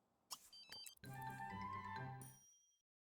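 Telephone ringing in the life-simulation video game The Sims 3: a bright, tonal electronic ring chime after a couple of short clicks, steady for about a second and a half before fading, heard alone.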